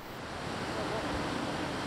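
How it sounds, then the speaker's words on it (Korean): A waterfall in Cheorwon, South Korea, gives a steady, even rush of falling water, heard from a moderate distance with faint wind buffeting. "물소리도 엄청났습니다."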